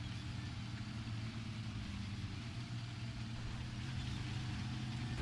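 A Skoda tank's engine in World of Tanks drones steadily at low pitch, a dense, even rumble that holds throughout with no talk over it.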